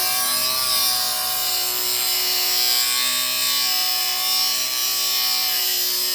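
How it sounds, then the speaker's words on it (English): An angle grinder cuts through a Harley Davidson Sportster frame with a loud, continuous, high-pitched metallic whine that holds steady and close throughout. "My angle grinder is now sort of bottomed out on there"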